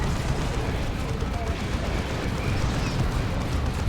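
A Singularity ability explodes in a 3v3 Dawn of War 2 match amid artillery and plasma cannon fire, a loud, dense, continuous rumbling blast with crackling battle noise throughout.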